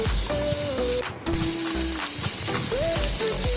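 Chopped tomato sautés in a pan for thattukada-style kappa biriyani, a continuous close sizzle broken by a brief dip, with scraping and clinking of a spoon against the pan.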